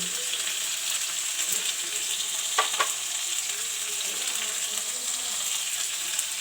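Bata fish fries in oil seasoned with salt and red chili powder, giving a steady moderate sizzle with a couple of brief scraping stir sounds midway; no voices.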